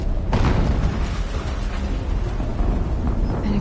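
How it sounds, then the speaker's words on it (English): A loud explosion in the video game Horizon Zero Dawn bursts in sharply near the start, then rolls on as a dense, sustained rumble with crackling debris that fills the rest of the moment. "An explosion."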